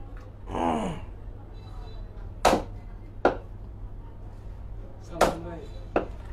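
A cleaver chops a large sea fish, the medh fish, into small pieces with four sharp, loud, widely spaced strikes, following a brief voice near the start.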